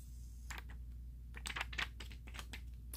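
Protective film being peeled off an Alcatel OneTouch Pixi Avion phone, a series of short crackling, tearing bursts that grow louder midway, close up with no talking.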